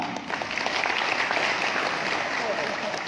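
Sustained applause from a public lecture audience at Akademi Manusia Indonesia, East Kalimantan, steady dense clapping filling the whole stretch at even loudness, with a voice running underneath.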